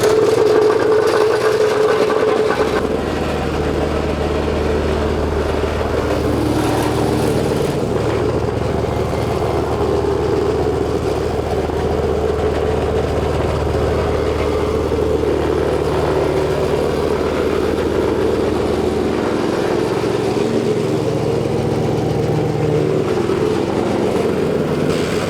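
A small petrol engine on a plate compactor (wacker plate) runs steadily and loudly throughout, a constant rough drone with slight shifts in revs and no talking.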